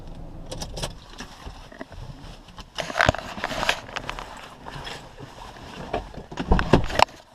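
A vehicle drives through a flooded crossing at Cedar Lake, churning water in a run of uneven splashes and sloshing bursts, with rumbling and thumps close by.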